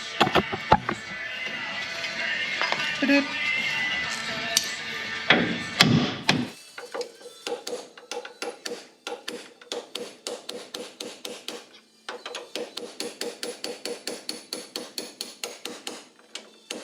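Hammer blows strike metal on a 1950 Cadillac hearse under restoration, first amid scraping and clatter, then as a long series of sharp, evenly spaced knocks with brief pauses.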